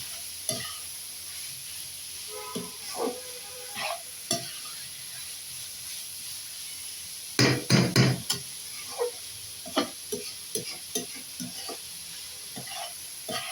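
Chicken fried rice stirred in a pan, a low sizzle under intermittent spatula scrapes and knocks, with a quick burst of rapid stirring partway through.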